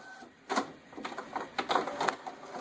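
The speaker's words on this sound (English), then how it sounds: "then I just wait for the printer to kick on" An office printer starts up a print job with a series of close mechanical clicks, whirs and short feed thumps in an uneven rhythm, with no talking.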